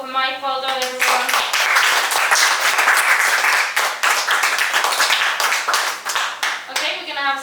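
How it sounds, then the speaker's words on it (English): Audience clapping for open mic performers at a spoken word poetry event, a dense, steady round of applause from a live crowd lasting several seconds, with a voice speaking briefly at the start and again at the end. "And a round of applause for everyone who got up for the open mic."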